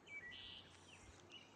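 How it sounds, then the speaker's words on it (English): A wood thrush sings outdoors near a house with a bird feeder: a few faint, distant flute-like whistled phrases over quiet background hiss. "There was a wood thrush."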